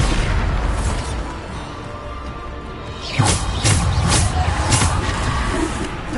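Bombarda explosion spells from Hogwarts Legacy burst in a rapid run of four or five booming blasts, loud and close over a constant background rumble.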